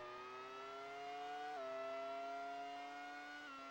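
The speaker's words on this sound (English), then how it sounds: "it was almost silent, and then occasionally you'd hear very faint engine noises." A steady, quiet race car engine drone from the N64 Monaco Grand Prix game holds an even tone, dropping in pitch twice, with no voices over it.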